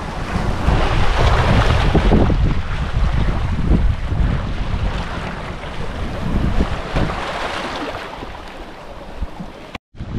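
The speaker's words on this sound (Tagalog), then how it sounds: "Maririnig mo lang yung pinaka hampas ng alon sa mga bato" Waves crash against rocks in a continuous, loud roar of surf, with wind buffeting the microphone throughout and a brief dropout near the end.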